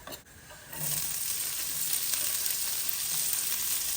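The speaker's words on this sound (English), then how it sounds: "Just gonna get it nice and hot and then add the spring onions" Spring onions hit hot sunflower oil in a stir-fry pan after a brief quiet start, then a loud, even sizzle hisses on steadily and close up with no talking.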